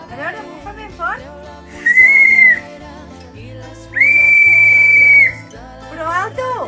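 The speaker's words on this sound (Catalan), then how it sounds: "Acabarem bufant el xiulet per dir que s'ha acabat" Two long, loud, shrill whistle blasts blown hard, each lasting about a second, separated by quieter background sounds and brief voice-like noises.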